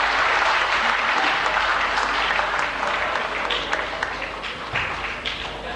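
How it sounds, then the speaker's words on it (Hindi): Loud, sustained applause from the audience at a Hyderabad tribute evening for a singer rises as a memento is presented, with many hands clapping densely and close, tapering slightly toward the end. "जरा जोरदार तालियां बजाइए इनके खूबसूरत चीज के लिए"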